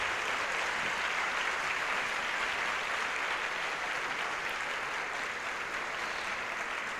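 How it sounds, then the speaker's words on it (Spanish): An audience at a catechesis congress claps warmly for an archbishop, forming a dense, even wash of hands that holds steady and moderately loud throughout without individual claps standing out. "vamos a recibir con gratitud y un caluroso aplauso a Monseñor Octavio Ruiz Arena"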